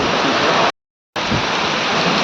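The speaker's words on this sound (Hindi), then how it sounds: "पानिओ भऽ रहल छै, तूफानो बहि रहल छै आ हवा सेहो बहि रहल छै" Heavy rain and strong gusting wind sweep through a village during a storm, a dense, steady roar that cuts out abruptly for a moment before returning just as loud.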